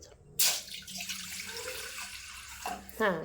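Water pours in a tap-like stream into a pan of broken leftover chapati pieces, a steady close splashing flow with brief voices at the start and end.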